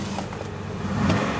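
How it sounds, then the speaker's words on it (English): A 2009 Chevy Impala SS engine runs with a steady low rumble heard from close by, and its revs swell slightly partway through. "I want you to hear the motor on it."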